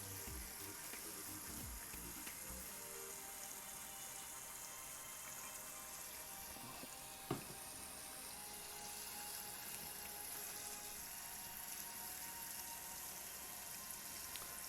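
Faint, steady running water from a tap rinsing film during home film developing, a continuous soft hiss with one brief clink partway through.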